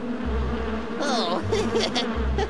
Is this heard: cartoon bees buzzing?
yes